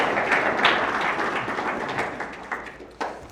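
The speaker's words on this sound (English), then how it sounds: "So a round of applause for everybody at Talbot House." Audience applause at a memorial service, a steady wash of many hands clapping through the whole stretch, with a few sharper close claps standing out near the end.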